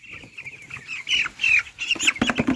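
A chicken is weighed on a scale while it clucks and squawks loudly and close by. The calls come in short, repeated bursts, and a scuffle of movement follows toward the end.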